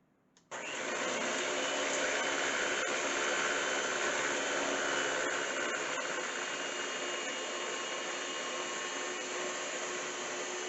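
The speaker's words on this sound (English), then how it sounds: "Do the egg whites until it's really nice and frothy and light." An electric mixer whisks egg whites for cod fish cakes. It starts abruptly and holds a steady, loud whirring drone throughout, with faint bowl contact clicks.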